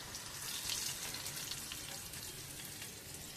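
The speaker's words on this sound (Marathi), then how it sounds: "ही फोडणी आता आपण दह्यावरती घालणार आहोत" Hot tempering of fried green chillies poured onto yogurt, giving a steady soft hiss and sizzle that stays fairly quiet and continuous throughout, with no talk.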